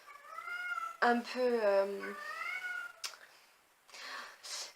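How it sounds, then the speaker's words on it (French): A cat meows nearby in a few drawn-out, wavering cries, close and fairly loud, with someone speaking briefly afterward. "c'est perturbant quand il y a un chat qui miaule à côté"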